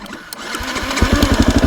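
A Tops Enduro 18 motorcycle cranks briefly on its electric starter, then catches into a close, loud, rapid idle with steady pulsing firing beats.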